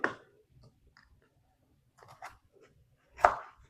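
A knife cuts potatoes into pieces for roasting, giving a few sparse, soft chops on a board, close but quiet, separated by long near-silent pauses.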